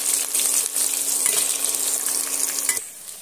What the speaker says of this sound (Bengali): 1 বাটি কুচনো পেঁয়াজ আর 3টে কাঁচা লঙ্কা দিয়ে আমি একটু পেঁয়াজটা ভাজা ভাজা করে নিচ্ছি।